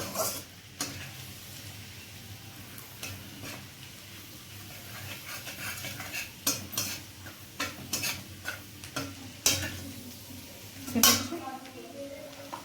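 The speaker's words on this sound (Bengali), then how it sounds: "এবার তেলের মধ্যে নতুন কুচি আদা কুচি এগুলো দিয়ে প্রথমে একটু ভালো করে ভেজে নিতে হবে" Chopped ginger sizzles quietly in hot oil for a chilli chicken, with a soft steady fry broken by sharp clinks and scrapes of a spatula against the pan.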